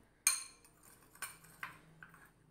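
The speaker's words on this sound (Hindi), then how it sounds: "अब हमारे जितने भी ड्राई इंग्रेडिएंट हैं वो इसमें डाल देंगे हम और इनको एक अच्छा सा मिक्स देंगे" Dry spices are tossed into sliced onions for a dhaba-style laccha pyaz, with a few light clinks and taps of a spoon against a bowl, sharp at first and then softer, close by and quiet.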